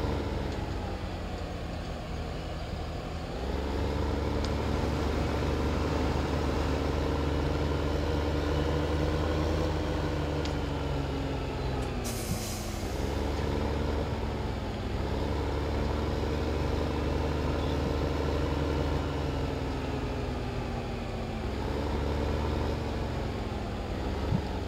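Truck engine idling in Farming Simulator 15: a steady low mechanical drone with harmonic hum that dips and swells in pitch a few times, continuous and unaccompanied by talk.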